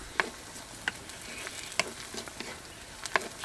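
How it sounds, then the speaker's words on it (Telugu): Onions with green chillies frying in a pan give off a steady close sizzle, with a few sharp clinks of a spoon stirring against the metal. "ఇదిగోండి ఉల్లిపాయలు ఈ విధంగా వేగాక 4 పచ్చిమిర్చి కూడా వేసుకుందాం"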